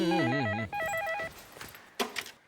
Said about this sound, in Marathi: माझा फोन असेल, मी बघते.